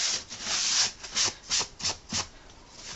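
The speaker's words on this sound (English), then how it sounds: "wipe away all the dust that sanding generates so that it's nice and clean" Cloth rubbing across a sanded wood surface to clear away dust, a series of about six brisk swishing strokes in a steady rhythm, close up.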